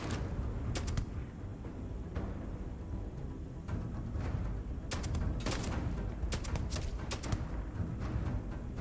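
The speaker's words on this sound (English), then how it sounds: "this seems like a perfect time to try out my new sniper rifle" Sniper rifle shots from the video game Starfield ring out as several sharp cracks, some single and some in quick pairs, over a dense, steady rumble of game ambience with no talking.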